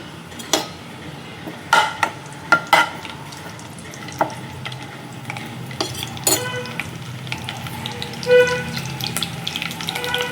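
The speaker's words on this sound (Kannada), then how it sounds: "ಎಣ್ಣೆ ಬಿಸಿ ಆದಮೇಲೆ ಒಂಚೂರು ಕಸೂರಿ ಮೇಥಿ ಹಾಕ್ತಾಯಿದ್ದೀನಿ ಫ್ಲೇವರ್ಗೆ." Kasuri methi dropped into hot oil in a pan, soft sizzling under sharp clinks of a spoon stirring against the pot, a few louder scrapes and taps over a steady low fry.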